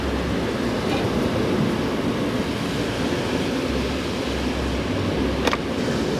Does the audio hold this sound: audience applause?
no